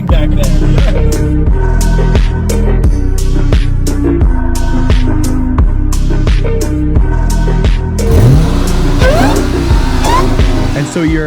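Cammed, full bolt-on Dodge Challenger 392 V8 revving up close, a loud, choppy rhythmic idle, then a rising rev toward the end, with voices talking over it.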